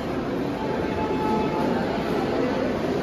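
A train rumbles steadily at a railway station on the way to Mount Abu in India, a loud, continuous, even roar filling the scene without voices.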